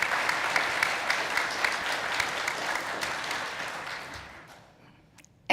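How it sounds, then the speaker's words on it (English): An audience giving itself a round of applause at a community gathering, a full burst of clapping that gradually thins and fades over several seconds, ending near silence before a sharp final noise. "let's give ourselves a round of applause because we did this"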